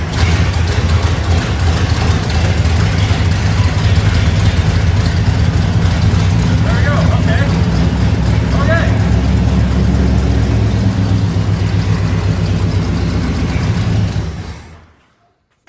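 A 1966 Lincoln V8, neglected for years, cranks and fires, then runs with a loud, steady low rumble close by for about fourteen seconds before cutting off abruptly.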